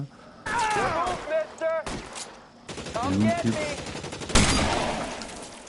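Heavy gunfire from a big gun in the video game L.A. Noire, rapid bursts of shots mixed with game sounds while people talk over it.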